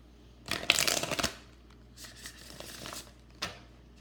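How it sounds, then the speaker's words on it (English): Oracle card decks are shuffled by hand, with a burst of rapid riffling and flicking followed by a few softer, scattered shuffles and one last brief flick, heard close in a quiet room. "I'm having so much trouble shuffling today."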